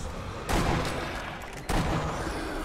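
Two sharp gunshots from a zombie shooting video game, the first near the half-second mark and the second about a second later, each loud and abrupt with a brief decaying tail and no talk over them.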